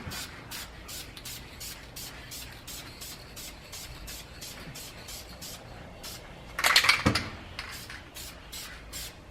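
A spray can of tint being applied as a second coat on the third brake light of a 2019-2021 Chevy Silverado 1500 RST, a loud close hissing burst with rapid rhythmic ticking heard throughout.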